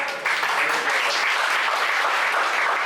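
An audience at a Hindi literary gathering applauding in honour of an absent author, a steady, even wash of clapping from many hands that begins abruptly and continues without pause.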